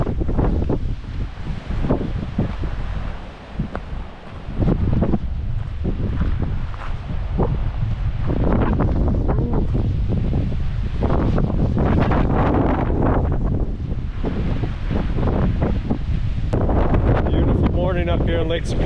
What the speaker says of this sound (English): Wind is starting to crank again.